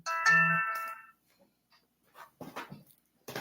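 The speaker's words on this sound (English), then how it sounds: "That is my phone." A mobile phone rings with a short, loud tonal ring of stacked harmonics lasting about a second, followed by quieter scattered sounds and brief noises.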